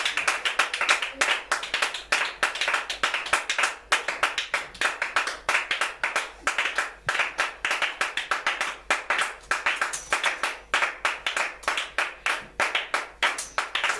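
A church congregation claps together during worship, a rapid, steady rhythm of many hands that carries on without a break, loud and close, with faint voices under it.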